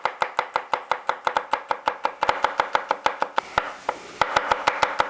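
A knife slivers garlic cloves on a cutting board for a quick pasta, a steady run of crisp, close chopping taps at an even brisk pace, with a brief scraping pass near the end.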